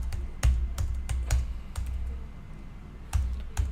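Typing on a computer keyboard, close and fairly quiet, with a handful of separate key clacks at uneven intervals over a low background hum.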